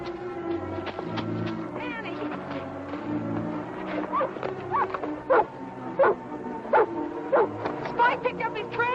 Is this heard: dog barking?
yes